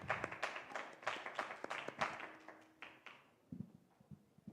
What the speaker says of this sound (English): let's welcome Granton with a heavy round of applause